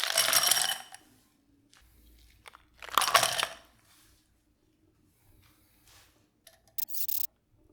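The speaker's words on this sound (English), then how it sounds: "Top the glass with crushed clear ice." Crushed clear ice is put into a piña colada glass in a few separate bursts of crunchy, crackling clinks, close and fairly loud, with quiet gaps and small taps between them.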